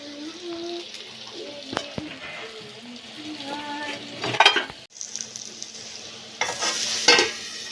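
Potatoes fry under a lid on a gas stove turned low, giving a steady close sizzle with a few utensil clatters and brief louder bursts, and faint speech in the background.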